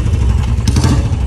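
Royal Enfield Bullet motorcycle engine running close by, a steady low thumping rumble that holds level throughout with a brief clattery rise midway, no talk over it.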